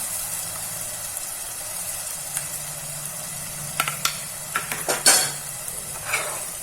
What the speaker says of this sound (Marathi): परतून घेऊया छान याच्यामध्येच आपण हे जे मसाले घेतले ते पण घालूया